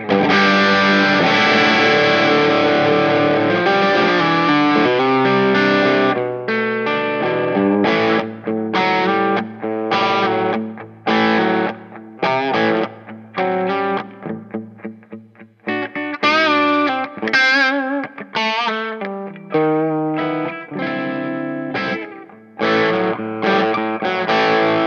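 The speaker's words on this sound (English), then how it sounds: "So this is the Hot Rod Rock Distortion." An electric guitar runs through a DigiTech X-Series Hot Rod Rock Distortion pedal, playing loud, heavily distorted sustained chords followed by choppy palm-muted riffs and staccato stabs, with no voices.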